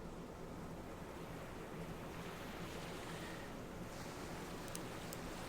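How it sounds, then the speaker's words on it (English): Steady wind and rolling ocean waves from the visual novel Aoi Shiro, a continuous broadband wash of surf breaking near rocky shoreline with gusting wind, unbroken and alone with no voices. "hearing only the sound of the wind and the waves around me"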